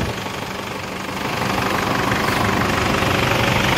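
The 2.5 DDI turbo-intercooled diesel engine of a 2007 Isuzu D-Max pickup idles steadily up close with a dense, rattling clatter, growing slightly louder partway through and then holding an even drone.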